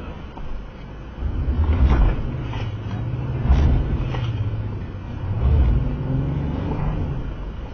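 Vehicle wheels spinning on Go Treads traction aids, a combined traction mat and leveling block, with a steady low engine drone that swells in two or three pushes as the tires churn without gaining ground.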